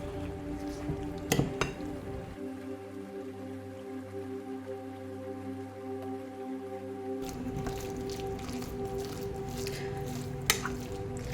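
Meat loaf mixture being mixed by hand with mild salsa, giving soft wet squishing and squelching with a few sharper clicks against the bowl, steady and close with no talk.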